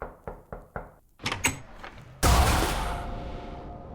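Four sharp knocks on a door in an even rhythm, then a rattle of movement and a loud burst as the door is yanked open, as for a package delivery, the noise fading away afterward.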